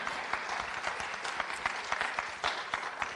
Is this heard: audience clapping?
yes